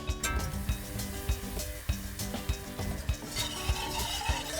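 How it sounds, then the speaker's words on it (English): A whisk works butter and flour into a roux in a pan, giving a soft steady scraping and sizzling with repeated sharp taps of metal against the pan, close and moderately quiet with no talking. "So we're gonna start with equal quantities of butter and flour into our pan, and we're gonna whisk them together."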